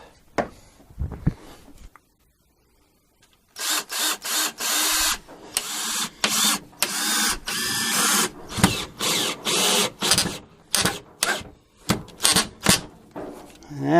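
A power drill drives a screw into a wall stud while a gun security cabinet is mounted, in short loud bursts with pauses between them, after a brief stretch of quieter sounds.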